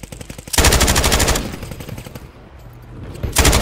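Rapid automatic fire from an SOA gun in Warzone on Rebirth Island, two loud close bursts of steady rat-a-tat shots separated by a short pause, with no talking.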